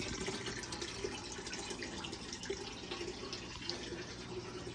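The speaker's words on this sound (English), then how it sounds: "I just got to do a water change in here so that'll help clear it up a bit." Water runs and splashes steadily in a freshwater aquarium during a water change, a close, continuous trickling with small drips and gurgles.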